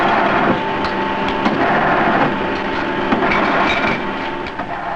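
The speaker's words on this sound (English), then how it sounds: "These in the main are packed on semi-automatic filling machines" Semi-automatic filling machines packing snuff in a tobacco factory, a loud, dense mechanical clatter with steady rattling and a constant hum, running continuously without speech.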